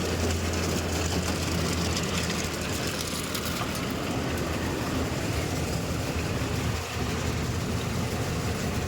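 Vehicle engine running in a farm field, a steady loud broadband rumble with a low hum, close and continuous with one brief dip near the end, no talk.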